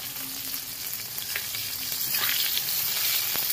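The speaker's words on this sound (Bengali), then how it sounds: "এবার 1 পিঠ ভাজা হয়ে গেছে, উল্টে দিয়েছি আরেক পিঠ ভাজার জন্য" Coated chicken pieces for butter garlic chicken fry in a pan on low heat, a steady close sizzle that grows slightly louder toward the end, with faint crackles and no speech.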